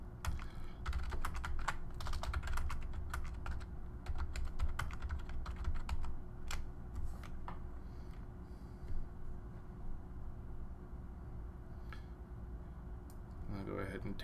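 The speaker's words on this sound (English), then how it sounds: "I'm just going to type in something that will be seen by whoever does this next" Computer keyboard typing comes in bursts of close, uneven key clicks over a steady low hum, in an IT operations work setting, with faint talk in the background.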